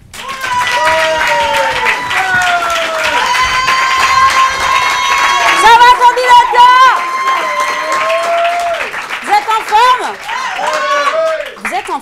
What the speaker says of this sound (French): Je vous demande d'applaudir pour la première fois en public, et donc en direct sur YouTube